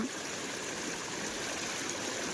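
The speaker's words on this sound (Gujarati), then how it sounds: "ત્યાંથી અનલિમિટેડ પાણી નીકળે છે" Water pours steadily from a breach in a rain-damaged embankment in flooded Baleshwar village near Surat during monsoon downpours, a loud, continuous rushing flow with no pauses.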